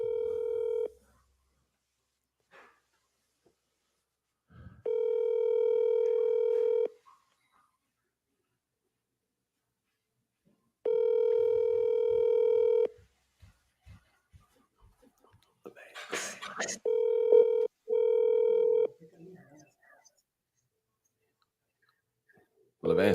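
A telephone call rings out while waiting for an answer: several long, even ringback tones spaced a few seconds apart, with quiet mouth sounds and clicks between them.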